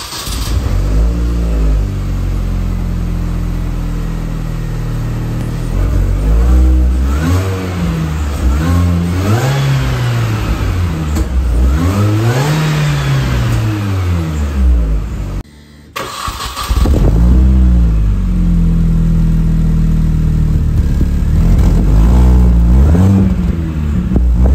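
A Mini car engine with a patched exhaust silencer starts and revs repeatedly in loud rising and falling surges, then cuts out briefly before roaring back at a high, sustained rev.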